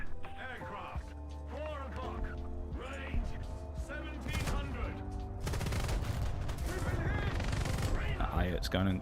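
Self-propelled anti-aircraft gun in a video game firing rapid bursts at tanks, a dense rattling fusillade of repeated shots that grows heavier and more continuous in the second half, with a voice talking over it throughout.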